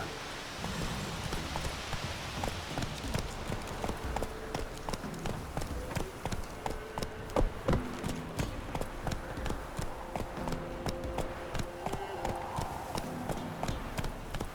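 Roach, a horse in The Witcher video game, galloping in a steady run of hoof clip-clops over a busy game soundscape, with a voice briefly heard over it.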